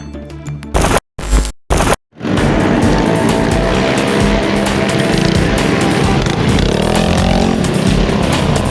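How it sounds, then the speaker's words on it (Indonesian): Motorcycles racing in an illegal street race, engines revving loudly and continuously after a few brief choppy bursts at the start, with tire noise mixed in. "sekelompok pemuda yang diduga geng motor yang asik melakukan aksi balapan liar"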